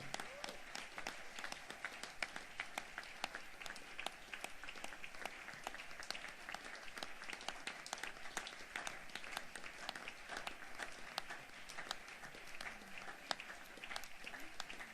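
A church congregation claps with both hands in praise to God, a steady, even patter of many hands that continues throughout, heard quietly and from some distance.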